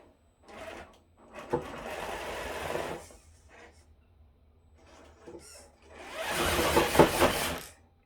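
A remote control car's electric motor runs at full throttle over plastic, a high-pitched whir rising in bursts, with a short first run, a longer middle stretch, and a loud final burst after quieter gaps.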